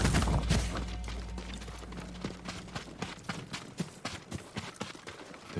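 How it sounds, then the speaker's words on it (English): Horse hooves clip-clopping at a stable in the video game Ghost of Tsushima, a run of sharp, fairly regular hoof strikes that grow more distinct toward the end, moderately close, with a low rumble under the opening. "They're samurai horses."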